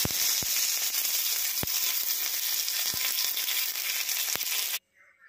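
Green gram dosa (pesarattu) batter with curry leaves sizzling in ghee on a hot pan, a steady loud hiss with occasional sharp pops, cutting off abruptly near the end.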